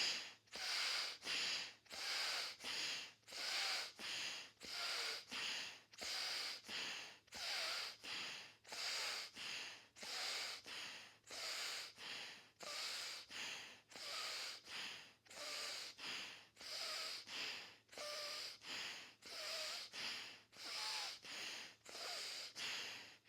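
Bhastrika pranayama breathing done through alternate nostrils, inhaling left and exhaling right: about twenty-five forceful, rapid nasal breaths in steady rhythm, each a sharp, close, loud rush of air, with no talking.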